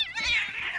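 A cat meows in a drawn-out, wavering wail during a group cat fight, one close caterwaul rising and sagging in pitch for under a second, with no talk.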